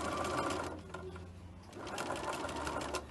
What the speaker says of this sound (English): Stitching it very close to the edge.